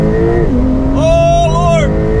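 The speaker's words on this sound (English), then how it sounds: "Left foot hard on the brake, yeah? Then full acceleration, release brake." A Porsche GT4 RS at a roadshow event launches hard from a standstill, its engine surging loudly and climbing through rising revs close by, while people talk and exclaim over it.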